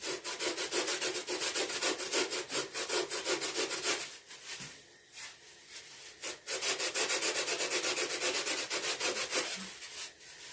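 A carved wooden fish body is hand-sanded in steady back-and-forth strokes, a close, continuous scratchy rasp that pauses briefly midway and then picks up again.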